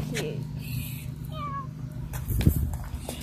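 Small kittens meow in a few thin, rising cries, one clearer mew in the middle and softer ones around it, amid household noise and a person talking nearby.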